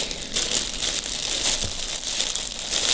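Plastic packaging from a new clothing order crinkles and rustles loudly and continuously for a few seconds as it is opened up close.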